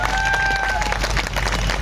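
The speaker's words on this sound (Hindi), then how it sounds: "एक मैं सर के लिए जोरदार ताली बजाऊंगा।" An audience at a seminar claps and cheers loudly in a dense, sustained burst, with a brief tonal whistle-like sound early on.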